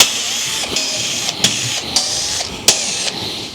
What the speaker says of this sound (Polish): Dobra, wiercę.